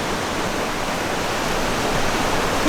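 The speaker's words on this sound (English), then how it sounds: "We both know the river is loud," A loud river in winter rushes past at close range, a dense, steady roar of flowing water that fills the whole clip without change.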